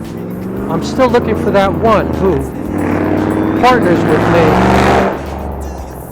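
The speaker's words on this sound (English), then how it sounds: "Sorry about the traffic, I'm standing right here on a highway." Highway traffic roaring past a roadside spot, a loud, steady wash of passing cars that swells toward the end, while someone talks over it in the foreground.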